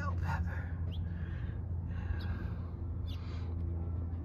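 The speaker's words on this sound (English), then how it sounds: "That sound like a crow to me." A few short, harsh crow caws, spaced apart and fairly distant, over a steady outdoor background rumble.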